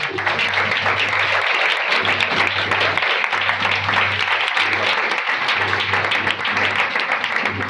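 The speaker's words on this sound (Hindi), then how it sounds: "जोरदार तालियां" A congregation at a church service claps loudly and continuously. The dense, sustained applause fills the hall for the whole stretch.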